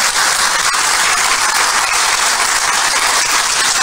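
An audience applauds at a summit session, a loud, continuous wash of clapping that holds evenly throughout without any talk.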